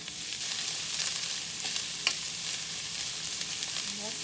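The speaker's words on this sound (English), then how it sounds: "I'm going to saute this onion, and then we'll add the meat." Chopped onion sautéing in olive oil in a pan over medium heat, a steady soft sizzle and crackle with occasional stirring scrapes and small pops, close and continuous with no talking.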